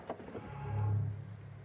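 Soft motorized whir of a Mercedes EQE 53 AMG SUV locking as the car is closed, a single brief rising and fading hum, faint and alone.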